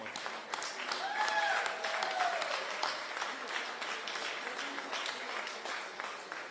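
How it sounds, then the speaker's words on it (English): Audience applause at a Georgia Senate Republican nomination victory event, a sustained patter of many hands clapping with brief cheers and a whistle rising early on, fading slightly toward the end. "I want us to join in a big round of applause for the whole Collins family."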